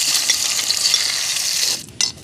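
Cashew nuts fry in ghee in a very hot pan, producing a loud, continuous crackling sizzle with faint stirring scrapes, fading out and flaring again at the very end.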